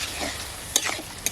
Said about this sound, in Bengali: এই টুটি ফুটির ভিতর যাতে রসটা মানে মিষ্টি রসটা লাগে ওই জন্য কিছুক্ষণ নাড়বো।